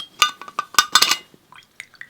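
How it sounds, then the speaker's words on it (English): Water is added to water-soluble ink, with bright glass clinks and tapping against a small vessel, followed by a few quieter liquid drips and light taps. "the addition of the water to the ink"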